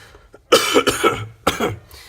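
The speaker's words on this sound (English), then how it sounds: "if you hear me clear my throat every once in a while" A few throat clears and coughs close to the mic: a soft start, then two harsh bursts, a pause, and another rough cough near the end.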